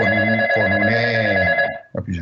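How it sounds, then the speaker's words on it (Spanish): A telephone rings during a lecture, a steady electronic ringing tone sustained for nearly two seconds under a speaker's voice before cutting off. "está sonando un teléfono ahí"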